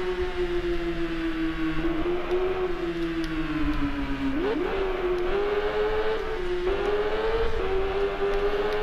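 Steady engine drone of a Kawasaki ZX10R motorcycle in a racing video game, a loud sustained tone whose pitch dips and climbs with gear changes and throttle, continuous throughout with no voices.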